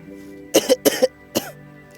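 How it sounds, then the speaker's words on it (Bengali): One person coughs three times in quick succession, loud and close, with the first two coughs paired and a third after a short pause. "গলায় কাশি হয়ে গেছে।"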